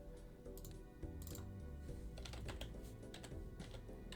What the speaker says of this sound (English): my keyboard and mouse is very loud